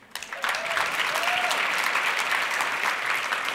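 Applause from an audience at a 2017 Alberta business awards ceremony: a large crowd's dense, steady clapping swells in within the first half second and holds at an even, full level throughout.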